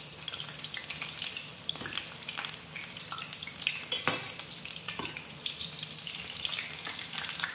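Bok flower fritters fry in hot oil, sizzling and crackling steadily, with occasional stirring and spatula clinks close by and no talk.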